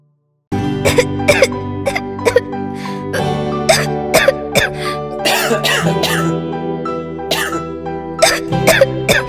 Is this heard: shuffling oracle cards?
no